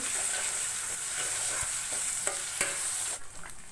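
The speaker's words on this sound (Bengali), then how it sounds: "এই জন্য আমি একটু ভেজে নিচ্ছি" Blended onion and garlic paste fries in a pan, a soft steady sizzle with a few scraping stirs, quiet and close with no talking.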